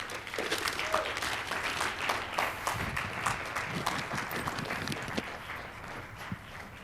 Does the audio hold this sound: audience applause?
yes